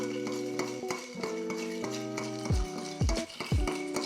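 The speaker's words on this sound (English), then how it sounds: "We're gonna stir this cocktail." A bar spoon stirs a cocktail over ice in a mixing glass, giving a steady close clinking and swirling rattle, with a few sharper knocks near the end and no talking.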